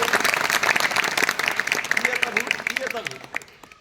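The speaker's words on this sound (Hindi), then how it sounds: "लो भैया, बजाओ सब लोग ताली इनके लिए" An audience claps together for a group of girls who have recited the Samaveda, a steady wash of dense applause running throughout with voices talking over it.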